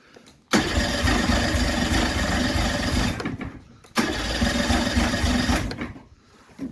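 A Johnson 55hp two-stroke outboard is cranked on choke in two bursts, each a loud rapid whirring starter rush that cuts off, with quiet gaps between.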